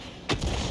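A single artillery shot from the Conqueror Gun Carriage in a tank battle video game, one sharp broadband crack followed by a rumbling low-end tail, fairly loud and alone.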